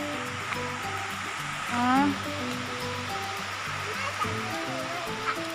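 Steady rush of Pha Tat waterfall in Srinagarind Dam National Park, Thailand, a broad constant wash of falling water with a voice and brief talk over it nearby.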